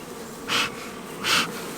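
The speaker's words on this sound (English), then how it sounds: "Just kind of make sure that you drive the bees off that bottom." Honey bees swarm around an opened hive with a steady, close, droning buzz, broken by two short hissing bursts.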